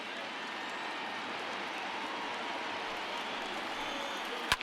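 Baseball crowd of over 31,000 in a stadium, a steady broad roar and murmur of cheering that holds level throughout, with a sharp knock near the end.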